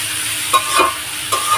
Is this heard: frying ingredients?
yes